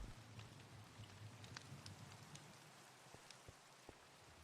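Steady rain falls on a rainy evening in a video game scene, a soft, continuous patter with occasional distinct drops, faint and alone with no voices.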